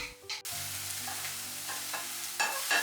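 Egg stir-fried with honey chili sauce sizzles steadily in a hot pan, broken by a few scraping stirring strokes, with no talk.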